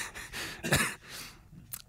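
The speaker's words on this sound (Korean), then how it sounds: "아유 기침이 나오네" In a radio studio, a person gives a few short, close coughs and breathy bursts, fairly quiet and with no talk over them.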